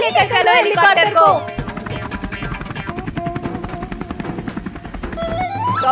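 A cartoon helicopter gives off a fast, rhythmic rotor chatter that runs steadily for several seconds in an animated Hindi comedy, with children's voices talking over it at the start and the end.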